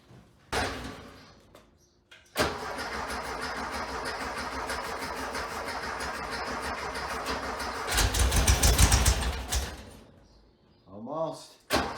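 A 1973 VW Thing with a newly installed engine cranks in bursts between door clunks, then catches and runs rough for a few seconds before stopping, with people talking nearby.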